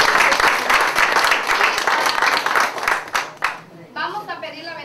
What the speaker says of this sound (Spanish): les vamos a dar un fuerte aplauso